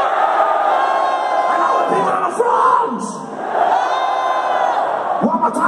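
A large crowd at a metal concert in Warsaw roars, cheers and shouts continuously, a dense, loud wall of massed voices with whoops rising and falling, dipping briefly mid-way before swelling again.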